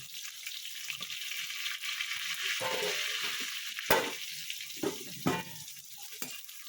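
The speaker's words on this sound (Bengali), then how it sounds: "দিয়ে আমি বেগুনটা লাল লাল করে ভেজে নেব" Eggplant slices with salt and turmeric fry in oil over a high gas flame, giving a steady broadband sizzle with a few sharp clatters from stirring or turning the pieces, close and without speech.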